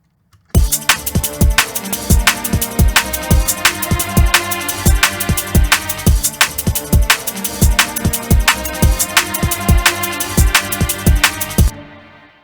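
A busy instrumental passage with sharp rhythmic attacks and sustained harmony, strings playing a lively, steady arrangement from start to finish.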